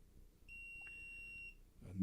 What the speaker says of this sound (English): And then wait for it to start beeping.